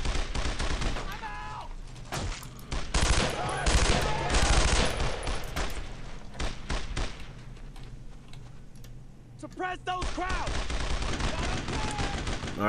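Rapid machine gun fire in the World War II shooter Brothers in Arms: Road to Hill 30, loud sustained bursts that crackle and thin out in the middle, then pick up again, with shouted voices from the game mixed in.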